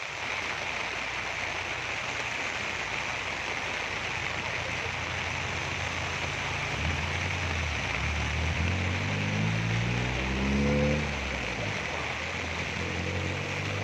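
Heavy rain pours steadily during a flood in Kuantan, a dense continuous hiss close by, with a low rumbling motor or water movement rising beneath it toward the end.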